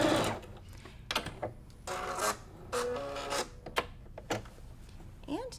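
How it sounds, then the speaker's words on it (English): A sewing machine runs back over previous stitches on a Sawtooth Star quilt block seam, giving several short bursts of mechanical whirring and clatter separated by pauses, close by. "Sewing over previous stitches."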